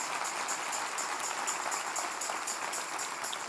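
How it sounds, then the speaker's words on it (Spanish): Applause from a church congregation at a Sunday service, a steady dense wash of clapping that fills the whole stretch evenly, with no voices standing out. "Denle un aplauso bien fuerte."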